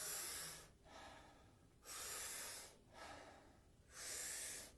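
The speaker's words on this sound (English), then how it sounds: "taking about 40 powerful breaths in through the body" Wim Hof-style breathing: vigorous, powerful breaths drawn in through the mouth, four strong airy breath sounds alternating with short pauses, close and fairly quiet, no talking.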